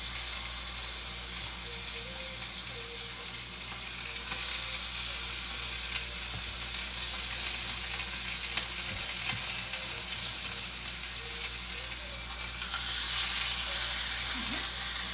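Steady, crackling sizzle of chicken frying skin-side down in hot oil in a skillet, close and continuous, with faint popping spatters and a low background hum.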